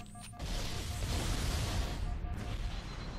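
Explosions go off in the video game Halo CE in the Pillar of Autumn level, a broad rumbling blast that swells after a short quiet start and then holds as a dense roar.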